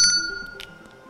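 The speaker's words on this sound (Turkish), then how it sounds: "Mavi masa zili çaldı ama zilinizin sesi kuvvetli çıkmadı herhalde" A quiz show table bell gives one short, bright ding at the very start, then quickly fades into a quiet room.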